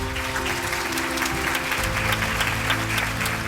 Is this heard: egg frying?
no